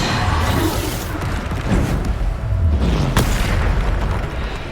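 Bombardo spell explosions go off in Hogwarts Legacy, a dense run of loud, deep booms with crackling blasts and one sharp pop, filling the whole stretch.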